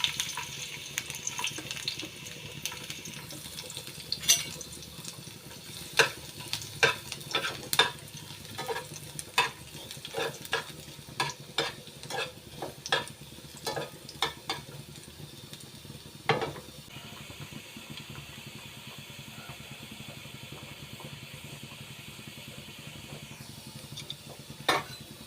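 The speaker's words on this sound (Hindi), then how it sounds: "गार्लिक पहले डाल देंगे उसमें।" Garlic clatters and sizzles in a pan for egg masala, stirred with repeated sharp scraping clicks of a spoon over a steady fry, while running tap water joins in near the end; no one speaks.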